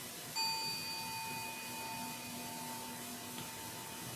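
Bells closing a Zen service ring out with a clear struck onset and then sustain in long, fading tones over a steady low hum, with no talking.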